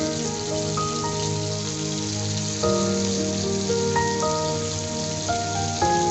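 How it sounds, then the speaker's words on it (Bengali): Fish fry slowly in a pan over low to medium heat. A steady, rain-like sizzle runs underneath a musical backing throughout, with no talking. "একটু সময় নিয়ে মাছগুলো ভেজে নিচ্ছি"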